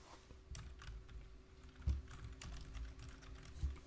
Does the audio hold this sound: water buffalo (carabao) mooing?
no